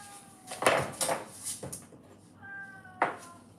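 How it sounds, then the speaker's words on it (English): A pet cat meows several times up close indoors, short cries spaced apart with a soft knock like a door in between. "Hold on, let me let my kitty out. She wants to come join."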